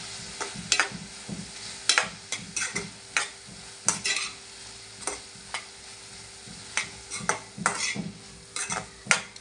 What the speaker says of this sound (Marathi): हळद, मालवणी मसाला, व्यवस्थित परतून घेऊया।